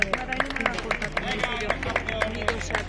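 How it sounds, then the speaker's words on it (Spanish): Crowd clapping at a greyhound racing championship award ceremony in Castilla-La Mancha, a brisk round of applause with sharp, evenly spaced claps over a steady low hum. "Un fuerte aplauso para África"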